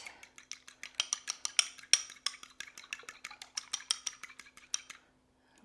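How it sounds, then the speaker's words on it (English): Two eggs are lightly beaten with heavy cream in a bowl, a utensil clicking rapidly against the dish in a quick steady rhythm of bright taps. The tapping lasts about five seconds and then stops. "I'm just going to beat those to combine them."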